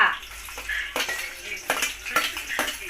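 Cumin, garlic and onion go into hot oil in a pan, giving a soft sizzle broken by a few sharp clinks and scrapes of a utensil against the cookware.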